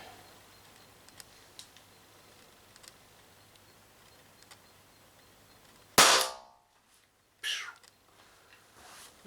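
An Umarex TP50 Compact air pistol, power-tuned, fires into a pellet trap: one sharp, loud crack after a quiet stretch of faint clicks, then a second shorter report about a second and a half later.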